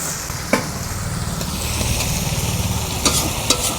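Rita fish sautéing in a spice paste with a little water added, cooking down for a Bengali teljhal: a steady close sizzle and bubbling with a few sharp clinks and scrapes of stirring against the pan.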